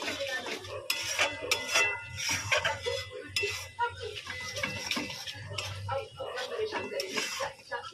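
Masala frying and being stirred in a pan for Punjabi tadka dal, with repeated clinks and scrapes of a spoon against metal over a soft sizzle, close up, while someone talks throughout.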